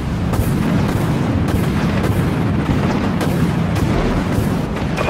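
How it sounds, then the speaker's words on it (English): A warship fires a torpedo in the naval video game Dreadnought, heard as heavy rumbling blasts and repeated booms within a loud, continuous battle din. "Torpedo away."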